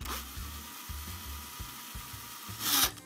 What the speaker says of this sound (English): Now that we have the rivets drilled out, the heads drilled off of them